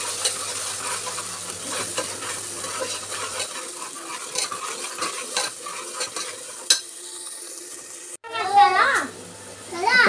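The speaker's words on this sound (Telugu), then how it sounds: "మసాలా అంతా ఫైన్గా పేస్ట్ చేసుకున్న మసాలా అంతా వేసి బాగా మిక్స్ చేసుకోవాలి" Fried masala paste for potlakaya curry is stirred in hot oil, with steady sizzling and frying plus rhythmic scraping of a spoon against the pan, and a voice chattering in the background.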